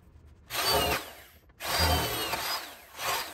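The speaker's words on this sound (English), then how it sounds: "all that's left is to drill these 2 holes into the chassis" A power drill bores two new holes into a vehicle chassis while a fender brace is fitted. It whines loudly in three close bursts, spinning up, running, then stopping, with brief quiet gaps between them.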